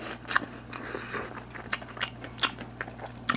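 Crisp crunching bites of a pan-fried Ottogi kimchi gyoza dumpling, several sharp crackling chews spread irregularly, up close and fairly quiet, with a faint steady hum underneath.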